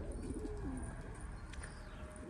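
Pigeons coo softly inside a coop where some birds sit on eggs, with low murmuring calls over a steady background hum and no voices.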